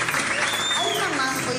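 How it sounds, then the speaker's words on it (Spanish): Applause from a comedy show audience at a telethon event, steady and fairly close, with cheering voices and a whistle-like tone rising over the clapping. "¡Un aplauso a la llegada!"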